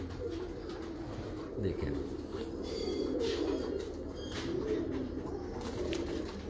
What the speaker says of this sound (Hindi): ये देखें जी डब वाले कबूतर यहाँ पे पड़े हैं, ओरिजिनल हालत में पड़े हैं